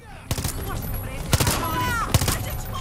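Gunfire in Far Cry 6, several sharp bursts of shots spaced apart over a busy game soundscape, loud and close, with faint voice-like sounds in between.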